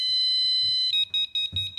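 Home door alarm sounds shrill, high electronic tones: a steady tone first, then a rapid series of short repeated beeps, with faint low household noise underneath and no speech.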